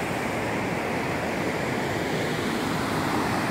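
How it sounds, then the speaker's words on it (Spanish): Rushing whitewater of the rapids on the Cangrejal River, a rafting spot near La Ceiba, roars as a steady, dense broadband wash throughout, with no talk over it. "Estos son los rápidos del Río Cangrejal donde se hace rafting."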